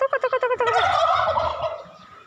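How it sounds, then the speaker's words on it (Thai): A turkey gobbles up close, a fast rattling series of calls that trails off into a warbling fade. "ไก่งวงไก่งวงจ่าไก่งวง"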